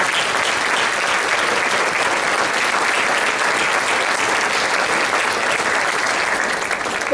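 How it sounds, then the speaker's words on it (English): Sustained, dense applause from a large audience, loud and steady throughout with no breaks, a continuous wash of many hands clapping at once. "And that deserves a round of applause."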